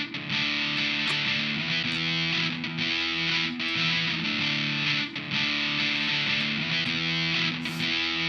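A heavily distorted electric guitar riff repeats as a steady loop, loud and continuous with sustained chords and no voices.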